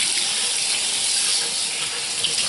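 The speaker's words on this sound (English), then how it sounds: "I'll rinse this off so it can be draining a little." Tap water pours steadily at a sink to rinse coconut oil liquid soap off fabric, a close, even hiss of running water with no voices.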